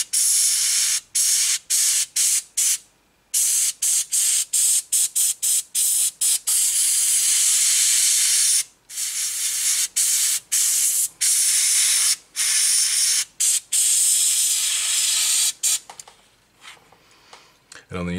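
Airbrush spraying a darker khaki, black and green paint mix onto the track links of a Tamiya ISU-152 model tank: loud, close, steady hissing bursts with brief gaps, a voice talking over it.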